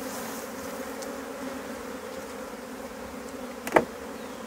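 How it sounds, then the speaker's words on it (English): Calm honey bees fly around a hive box, a steady, moderate buzzing drone that holds evenly throughout, with one brief closer bee passing near the end. "Bit of flying around, just normal, not angry"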